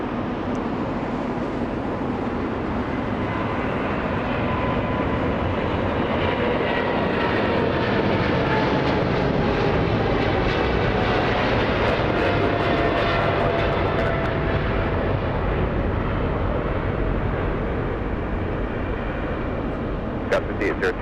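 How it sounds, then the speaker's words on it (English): A China Southern Cargo Boeing 777 freighter roaring down the nearest runway at Los Angeles International Airport on its takeoff roll, a loud, steady, broad jet-engine rumble that holds without a break, with a voice talking over it. "We have a freighter speeding down the runway on the takeoff roll."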